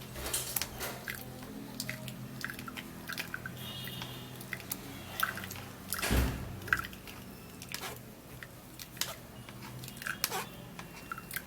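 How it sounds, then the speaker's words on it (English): Berries are pressed by hand to squeeze out their juice, giving soft wet squishes, drips and small crunches in irregular bursts, with one louder squelch near the middle, at close range and without talk. "So I'm going to be pressing it this way so that the juice could come out."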